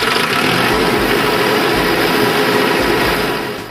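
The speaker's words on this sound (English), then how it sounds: "When the engine is running," A diesel generator set engine runs at a steady idle, a loud, continuous broadband rumble and whine with no pauses, fading slightly at the very end.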